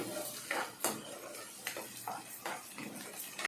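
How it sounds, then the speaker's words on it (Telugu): Masala paste stirred in a pan for a ridge gourd and raw prawn curry, giving scattered metallic scrapes and clinks of the utensil against the pan over a low, steady background hiss. "ఇది పచ్చి వాసన పోయేదాకా కొంచెం వేగాలండి"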